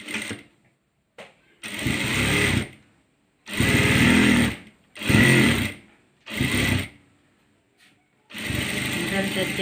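A sewing machine stitches folded waste cloth for a hair band in six short bursts of loud, rapid running, separated by quiet pauses.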